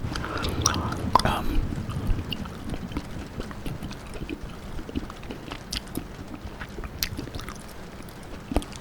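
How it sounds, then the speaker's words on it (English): Close-up gum chewing for ASMR, with soft wet smacks and clicks in an irregular rhythm, louder at first then quieter, over faint background rustle. "ASMR gum chewing video, and this is part 4 of REM state"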